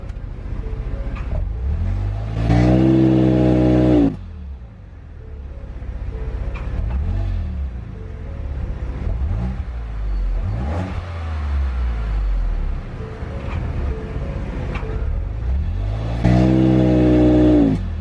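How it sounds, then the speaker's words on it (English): A Ford Edge exhaust fitted with bypass valves that open under throttle: several loud, close revs rise and fall from a steady idle rumble, with no talking. "So you can definitely hear the car when the valve opens."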